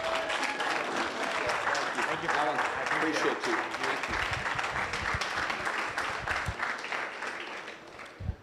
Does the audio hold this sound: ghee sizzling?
no